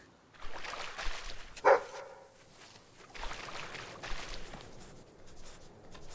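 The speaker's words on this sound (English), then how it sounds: "Oh, look at the doggy." A dog in the video game Fable III gives a single short bark over quiet game ambience, with faint shuffling and clicking sounds around it.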